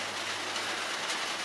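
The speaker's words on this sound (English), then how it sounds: "as you can hear from the sound on the ceiling, it is raining" Steady rain drums on the roof of a cluttered backyard shed, a dense, even hiss of drops on the roofing that carries on without a break, heard from inside and close overhead.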